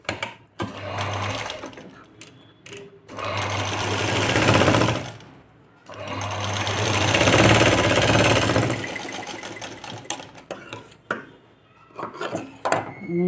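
Electric sewing machine stitching a two-inch hook strip for a sleeveless princess-cut blouse, running in two long loud bursts of about three seconds each, with shorter start-stop runs and handling clatter between them.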